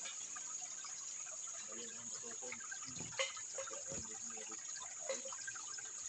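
Cold spring water wells up from under rocks beneath the ground and flows out as a faint, steady trickle and gush. A thin, constant high-pitched whine sits above it, with a few soft knocks.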